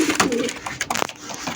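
A racing pigeon coos in soft, throaty bursts with brief pauses, close by, with faint background noise and no clear speech.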